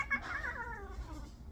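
An orange cat lets out a drawn-out, wavering meow indoors, fairly quiet and close, falling in pitch as it trails off, with no talking over it.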